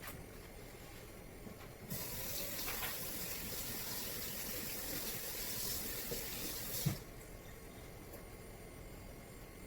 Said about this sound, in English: So next is I'm gonna rinse this.